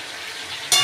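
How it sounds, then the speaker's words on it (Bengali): Chopped malabar spinach is stirred into a crab and potato curry in a pan: a brief, close sizzle that jumps sharply louder near the end as the greens hit the hot spices. "এবার দিয়ে দেবো সেই কাটা পুঁই শাকটা, দিয়ে ভালো করে নেড়ে নেব।"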